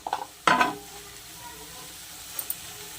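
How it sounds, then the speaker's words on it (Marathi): Homemade red chili chutney roasts in hot oil over a low flame, with a sharp burst of sizzling as it is stirred, then a quieter simmering crackle and a couple of light utensil clinks. "तर चटणी व्यवस्थित तेलात भाजून घ्यायची"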